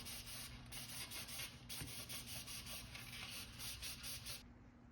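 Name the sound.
wiping a bicycle rim clean with isopropyl alcohol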